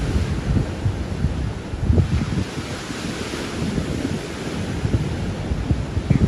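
Strong wind buffets the microphone on a beach beside Southwold Pier during a night sea fishing session, a continuous rough rumble of gusts with crashing surf mixed underneath.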